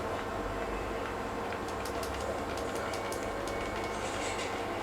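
A subway train in the video game GTA 4 rumbles steadily with rail clatter and a few squealing high notes, a constant mid-level roar with no talk.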